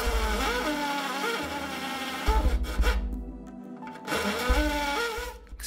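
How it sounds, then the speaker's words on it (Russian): Rokodil Twist 2 Pro impact drill boring into 1 cm thick porcelain tile: loud, steady motor whine with a rough grinding hammer rattle, dropping briefly between bursts before resuming. "это очень мощный керамогранит толщиной 1 см и без ударной дрели сверлится очень медленно и долго"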